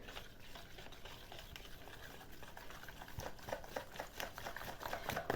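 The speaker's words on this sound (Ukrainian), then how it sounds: "Ще раз оце все ми перемішуємо." A spoon scrapes and swirls through thick potato-casserole batter in a bowl, with steady soft clicks and wet slaps that grow a little louder toward the end.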